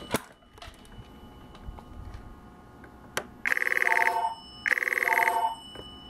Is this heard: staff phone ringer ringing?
yes